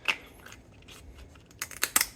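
Kitchen scissors snip through the top of a lobster tail shell, giving a few sharp crisp crunching cuts, a single snip first, then a quick cluster of louder clipped crunches close by.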